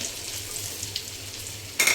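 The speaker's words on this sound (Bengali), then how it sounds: "দেব রসুন কুচি, দিয়ে দেব কাঁচামরিচ কুচি, সব একসাথে ভালোভাবে ভেজে নেব" Onion, garlic and green chili frying together in a pan for a papaya mash, a steady close sizzle throughout that ends with a brief louder clatter of stirring.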